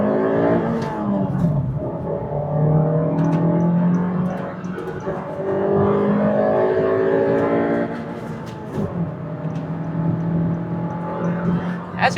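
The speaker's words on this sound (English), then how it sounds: "As you can hear, the engine is really sporty sounding." A fourth-generation Honda City's engine revs loudly and steadily, rising and falling in pitch as the car accelerates through several gear changes.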